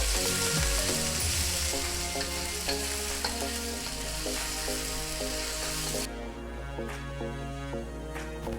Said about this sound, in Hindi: मीडियम साइज चॉप ऑनियन मैं इसमें डाल दूंगी। इनको भी सॉफ्ट होने तक पका लूंगी।